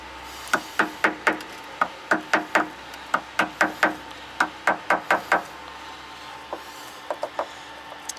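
A hammer pounds down a bump on a wall being prepared for painting, with loud, close, evenly spaced blows in quick runs, a short pause, then a few lighter taps.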